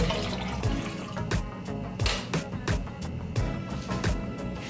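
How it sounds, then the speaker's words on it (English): Water pours into the water tank of a Nespresso Essenza Mini coffee machine, a continuous close splashing trickle with small irregular surges, fairly quiet and without speech. "So I did fill the water tank."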